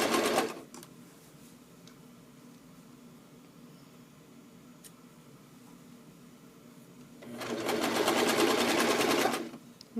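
A sewing machine runs a seam around the casing of wool longies cut from a sweater, with a short burst of stitching at the start and a louder, longer run near the end, the quiet gap between holding only faint background noise.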